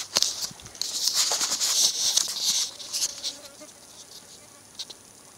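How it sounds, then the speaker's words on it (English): Australian native bees buzz in an open hive with the lid just removed, a close, fluttering drone of many insects that swells and fades over a few seconds with light tapping. "This is a hive of Australian native bees"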